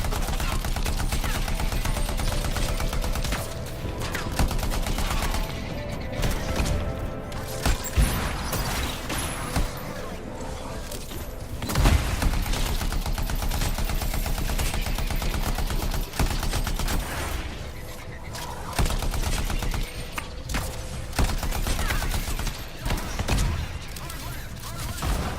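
Heavy gunfire in the Anthem video game: dense, continuous volleys and automatic bursts, loud and close, running almost without a break, with brief voices mixed in.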